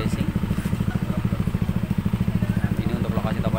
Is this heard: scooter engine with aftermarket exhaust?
yes